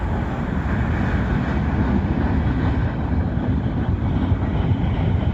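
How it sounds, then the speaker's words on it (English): Kansas City Southern locomotives hauling an SCWS coal train past in Abbeville, South Carolina, a loud, steady low rumble and roar of engines and rolling cars that holds unbroken throughout, with no voices. "I got the SCWS coal train attached to this thing."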